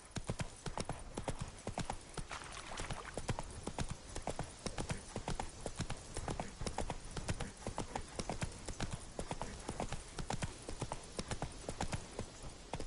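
Roach, Geralt's horse in The Witcher 3, gallops with quick, regular hoofbeats thudding on the ground, a steady three-beat rhythm that carries through the whole stretch at moderate volume with no talk.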